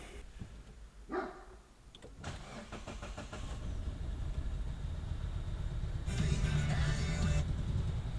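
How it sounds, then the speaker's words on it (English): A 2020 Mazda CX-9 engine cranks and fires after a spark plug change, then settles into a steady idle heard from close by, with a brief dog bark early on. "now just we need to start it up and make sure everything works"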